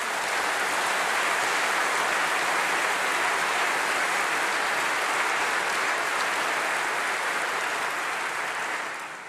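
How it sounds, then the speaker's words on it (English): A large congregation at a summer gathering applauds continuously, a dense, even wash of clapping that holds for about nine seconds before tapering slightly at the end. "I think that deserves a round of applause."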